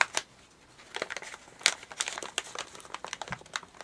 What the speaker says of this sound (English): So what I'm going to do is I'm going to fold the edges in.